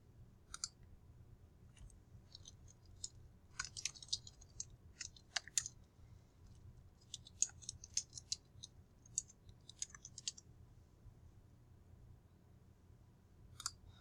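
Scattered computer mouse clicks during a login, fairly faint and irregular, coming singly and in small bursts over a low steady background hum, with no voices.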